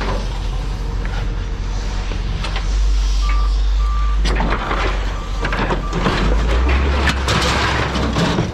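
Reversing alarm beeps from a truck in the vehicle combat game Twisted Metal, a steady series of evenly spaced electronic tones over engine rumble and loud game noise, with no talk.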